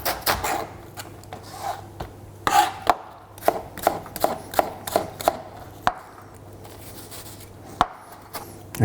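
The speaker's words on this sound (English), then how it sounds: "we're going to chop this as fine as you can" A knife chops a shallot finely on a cutting board, producing a run of sharp, close taps in uneven bursts with short pauses between them, with no talking.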